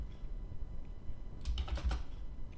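A computer keyboard is typed on in a short quick burst of several key clicks, close by, over faint room background with no speech.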